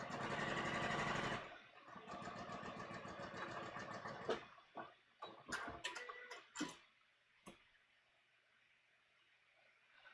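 A sewing machine runs in a steady, dense mechanical whir while stitching a bodice sloper, then stops and gives way to a few scattered clicks and handling knocks of fabric and machine parts.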